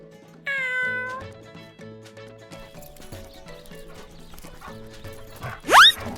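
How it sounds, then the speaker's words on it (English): Pet cats meow, a drawn-out cry at the start and a sharp, high, loud one near the end, over soft background music. "Adorable kitty chorus asking for love."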